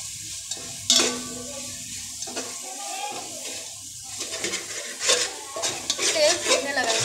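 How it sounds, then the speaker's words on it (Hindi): Hot oil splutters under chicken korma in a pot, a crackling fry mixed with loud stirring scrapes and clanks of a utensil, while voices speak over the cooking. "तेल फूटने लगा है। हाँ, तेल फूटने लगा है, पकड़ने लगा है।"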